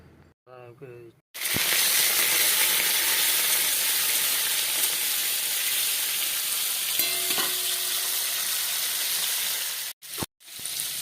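Shrimp drop into hot mustard oil with green chillies, erupting into a loud, dense, continuous frying hiss that stays close and steady for several seconds before a few stirring knocks, with brief voice at the start.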